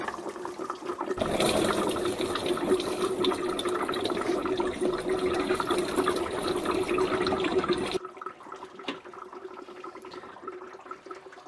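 Coolant pours from a Renault Clio 1.2 16v radiator into a drain pan as a continuous, fairly loud splashing stream for several seconds, then cuts off abruptly, leaving only faint drips and trickles.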